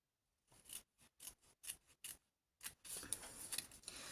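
Scissors cut through paper card in a close, quiet sequence of about six crisp snips, followed by a longer rustling cut with a few sharp clicks.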